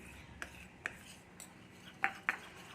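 A spoon mixes cornflour into ghee in a bowl, giving a few faint, sparse clinks and light scraping taps against the bowl in a quiet room.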